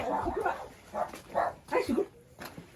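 Small dogs bark and yip in short bursts, several quick yaps in a row at close range, mixed with voices talking nearby.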